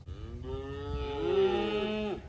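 A single Angus cow gives a long, drawn-out moo, rising and then falling, loud and close against faint outdoor background, with no voices.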